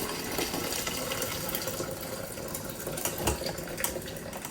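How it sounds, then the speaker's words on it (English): Hot water poured off boiled tomatoes and jalapeños in a kitchen, a steady loud splashing rush running continuously for several seconds without talk. "what we're going to do is we're going to drain the water"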